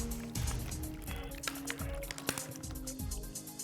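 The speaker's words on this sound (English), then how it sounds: "I take these and I pour them out" Water glugs and splashes as it is poured out of two plastic water bottles, a run of gurgling bursts and dripping over a few seconds, close and fairly loud with no talking.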